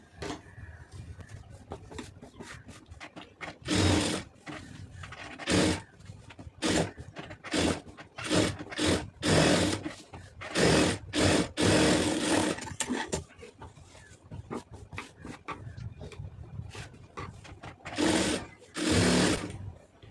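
A sewing machine stitches lace around a round neckline. It runs in loud, close bursts of rapid, even stitching, separated by short stops, across the whole stretch.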